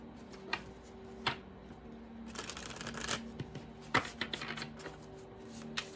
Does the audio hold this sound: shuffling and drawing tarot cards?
yes